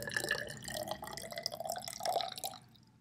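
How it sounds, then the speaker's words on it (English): Water is poured into a measuring cylinder to about 75, a close trickling and splashing whose pitch rises as the glass fills, then stops. "So you'll add water pretty close to the top of where you want it to be"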